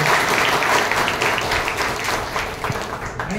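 An audience claps at a book launch to congratulate the author, a moderately loud, even wash of applause with faint individual claps standing out, no voices over it.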